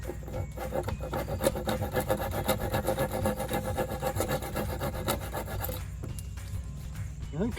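Wood sanded by hand for a sofa table, a loud, close, continuous rhythmic rasping and rubbing that slows and pauses briefly toward the end.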